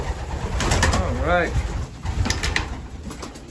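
Pigeons cooing in a coop give a few close, soft rolling coos. Someone talks over them.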